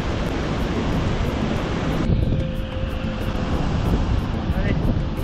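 Coastal wind of about five metres per second rushes across the microphone in a constant heavy roar, with surf and water noise blended in underneath.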